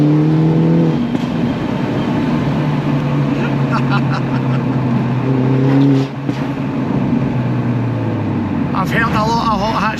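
A Mini Cooper S John Cooper Works with a Cooper Works short shifter idles with a deep, steady burble, and a few throttle blips make the pitch rise and fall. Someone talks loudly over the engine.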